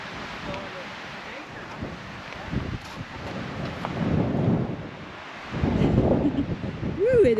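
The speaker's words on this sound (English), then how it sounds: "It is windy." Wind gusts rumble and buffet the microphone outdoors at a South Dakota campground, swelling in loud surges, with brief voices in the mix.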